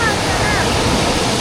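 Strong sea waves on a beach, heard as a loud, dense roar of surf with wind buffeting the microphone, continuous and close throughout.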